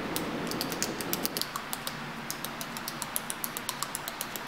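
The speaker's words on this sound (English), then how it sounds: "Why do you keep clicking the pen like that?" A ballpoint pen clicked over and over in a game scene, sharp little ticks at a quick, slightly uneven pace, close and crisp over a quiet background hiss.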